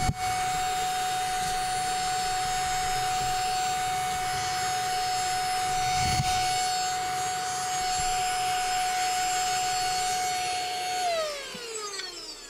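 A Silvercrest mini cordless vacuum cleaner from Lidl runs with its brush attachment, giving a steady, close, high motor whine that holds an even pitch throughout and drops in pitch near the end as it winds down.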